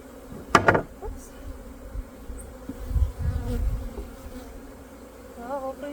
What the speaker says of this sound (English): There's a lot of bees on the last one.